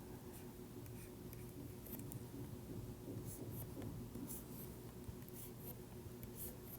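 Faint marker strokes on a lecture board, soft scratchy squeaks in short bursts over a low steady room hum.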